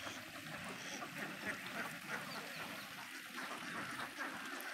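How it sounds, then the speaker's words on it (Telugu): Ducks quack faintly at a distance in a village setting, with soft, scattered calls over a steady outdoor background. "ఇక్కడ ఉన్నాయి చూడండి బాతులు."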